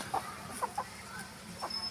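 Bhimavaram-line breeding hens cluck in short, scattered bursts, a few quick calls spread across a low, steady farmyard background.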